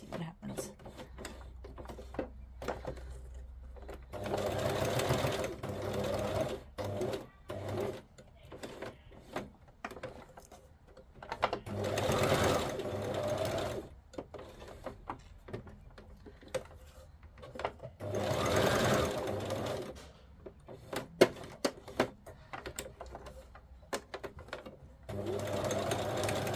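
A sewing machine sews a decorative stitch in several short bursts of rhythmic mechanical whirring, each a few seconds long, with quiet pauses, clicks and occasional talking between runs.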